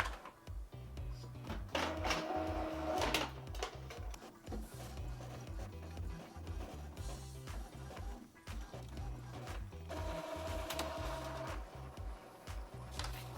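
An Epson EcoTank sublimation printer runs a nozzle check, its print head carriage shuttling back and forth in a steady rhythmic mechanical chugging with periodic higher whirring passes, close and continuous.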